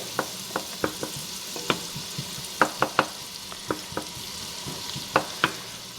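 Vegetables sautéing in a pot for creamy broccoli cheddar soup, a steady soft sizzle broken by scattered sharp clicks and taps of a utensil stirring against the pot, close up and with no talking.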